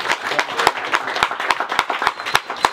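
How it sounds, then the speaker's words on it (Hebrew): An audience at a youth seminar dedication event claps, with sharp individual claps in a loose, uneven rhythm over a soft bed of scattered handclaps, fairly close. "כפיים לכם ממש"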